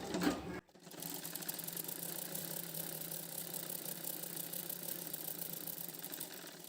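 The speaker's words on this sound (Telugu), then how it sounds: "ఇట్లాగా లైనింగ్ తిప్పుకొని మళ్ళీ లైనింగ్ మీద నుంచి ఇంకొక కుట్టేయండి" A sewing machine stitches over the lining of a girl's lehenga blouse. A brief louder burst at the start cuts off, then the machine runs on with a steady mechanical whir and rattle close by.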